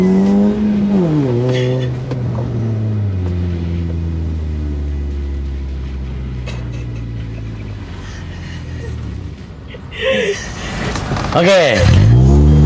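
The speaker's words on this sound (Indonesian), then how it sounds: "Manasin ban doang ini." A Honda Civic Type R revs its engine while heating its tires, the pitch sweeping up and then sliding down in long tones, with a person talking over it and a burst of revving near the end.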